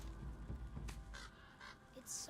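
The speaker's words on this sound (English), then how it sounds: "Wait, I heard a crow." Several cawing calls from a crow in a video game, fairly faint and mixed with game ambience and a rumbling low background, with a brief higher sound near the end.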